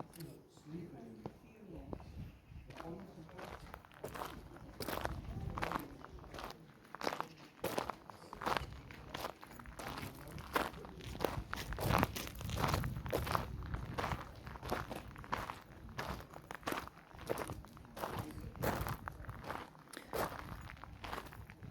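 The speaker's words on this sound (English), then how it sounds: "So to me it's just a bit annoying hearing the gravel" Footsteps crunch steadily on a gravel path in the gardens of Montacute House, a National Trust estate, close and continuous at an even walking pace, with faint voices underneath.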